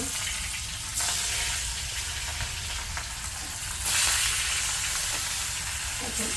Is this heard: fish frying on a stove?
yes